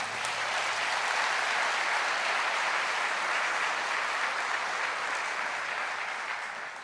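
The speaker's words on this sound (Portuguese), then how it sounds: "Você pode aplaudir o Senhor?" A worship congregation applauds during a sermon, steady, dense clapping from many hands that stays loud throughout and tapers slightly at the end.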